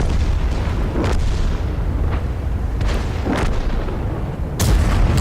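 In World of Tanks, the Rhm.-Borsig Waffenträger tank destroyer fires during a match on the Ensk map, a few booming gun blasts standing out over a constant loud rumbling game backdrop.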